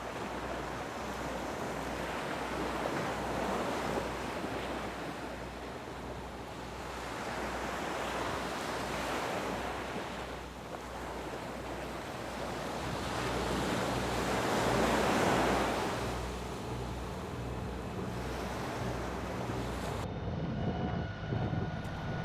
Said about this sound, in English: the annoying, slow, rolling swell on that anchorage